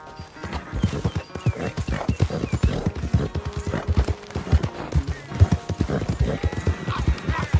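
Horse hooves clip-clop in a steady, close rhythm in the Red Dead Redemption 2 game, with occasional whinnies and a voice talking over the hoofbeats.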